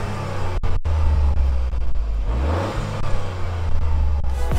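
Toyota GR Yaris engine revving loudly and close, a steady throaty drone rising and falling over a few seconds with no talk.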